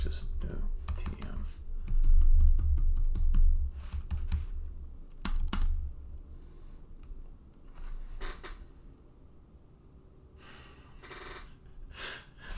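A computer keyboard clatters in bursts of quick keystrokes during game development work, with pauses between clusters and audible breathing nearby.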